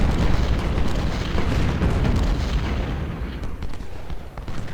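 Civil War artillery cannons firing across a battlefield in Ultimate General: Civil War, a heavy continuous rumble of booms and blasts that thins slightly toward the end, with no talk.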